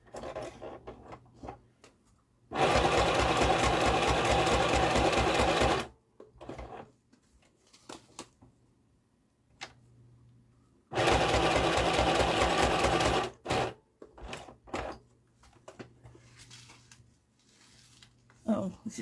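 A sewing machine stitching in two long bursts of rapid, even mechanical chatter, loud and close, separated by pauses filled with small handling clicks and a person speaking quietly.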